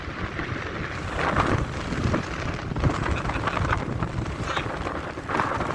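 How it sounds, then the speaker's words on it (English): Strong wind on a cliff in southern Ireland buffets the microphone in a steady, roaring rush with louder gusts swelling throughout, close and loud, with no voices. "the wind is literally blowing us so hard right now"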